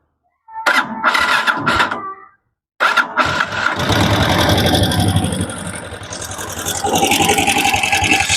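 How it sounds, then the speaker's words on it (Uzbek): A motoblock walk-behind tractor engine cranks in short bursts, stops, then catches and runs with a loud, rough, close chugging drone that rises and settles, with no talk. "Keyin qanaqadir motorda shum bor."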